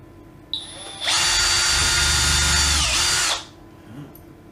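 A power drill whines up and runs steadily for about two seconds as it backs screws out of floorboards, then winds down, loud and close.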